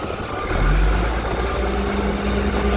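A garbage truck's packer blade pushes refuse back, a heavy diesel engine revving up and droning low and loud with hydraulic strain, close and unbroken.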